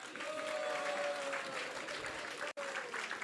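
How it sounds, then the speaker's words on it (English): A gathering at a Narasimha Chaturdashi devotional program gives a round of applause, a dense even patter of many hands broken by one brief dropout, with a faint sustained tone running beneath. "So please give a big round of applause for yourself."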